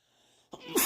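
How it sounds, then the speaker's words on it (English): A single sharp sneeze bursts out after a quiet lead-in, loud and close with a breathy, hissing finish. "Well, wait a second, I gotta sneeze."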